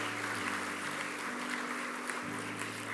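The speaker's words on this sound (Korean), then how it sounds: "다시 한번 박수로 이분들을 축복하면 좋겠습니다." A church congregation applauds steadily during a Sunday worship service, a dense continuous wash of clapping from many hands that fills the space without pause.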